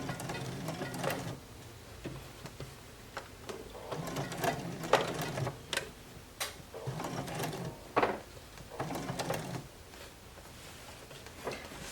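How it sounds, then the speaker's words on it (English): A Juki HZL F600 sewing machine stitches at its longest stitch length in several short mechanical runs with brief pauses, the needle's rapid clatter close and fairly loud. "Then I want to set my machine to the highest stitch length. And so now I want to just start sewing."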